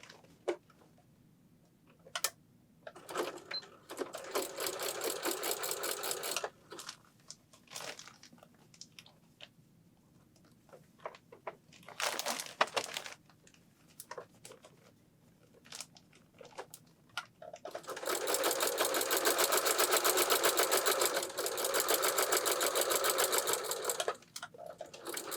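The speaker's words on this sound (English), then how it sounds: "use your machine and just stitch it closed" A sewing machine stitches the edges of an insulated reusable bag's liner closed in several bursts of rapid whirring, short runs early and a long steady run near the end, with quiet handling between.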